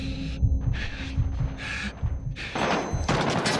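Call of Duty: Modern Warfare gunfire crackles in short bursts, then a loud explosion booms near the end and leaves a broad, rumbling roar.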